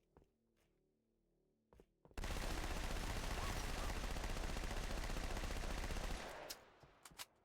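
Halo 2 Anniversary SMG fire rips out in one long, loud continuous burst lasting about four seconds, preceded and followed by a few faint clicks and thuds.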